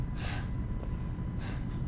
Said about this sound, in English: I don't like the heavy breathing.